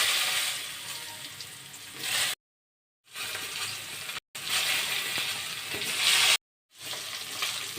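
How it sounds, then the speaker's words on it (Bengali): Eggplant pieces fry in leftover fish oil, giving a steady, loud, close sizzle that runs in several long stretches separated by abrupt silences. "এখন আমি বেগুনগুলো মাছের তেলেই ভেজে নেব।"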